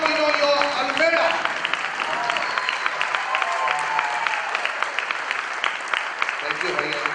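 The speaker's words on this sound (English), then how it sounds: "greet him with a thundering, standing applause" A standing audience at an awards conclave welcomes Meenu Chopra with steady, dense applause, cheers and voices mixed through the sustained clapping.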